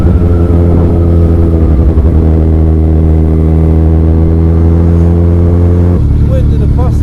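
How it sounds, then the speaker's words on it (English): A Kawasaki Z1000 motorcycle engine roars loud and close through an aftermarket exhaust, holding a steady deep drone with a shift in pitch near the end, heard from the rider's seat while riding. "I can even feel the engine underneath me. It's roaring, you know."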